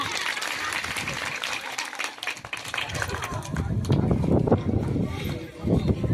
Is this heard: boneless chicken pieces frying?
no